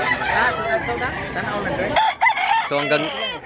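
A rooster crows loudly nearby while chickens cluck around it at a poultry sale in Mantalungon, Cebu, with people talking in the background.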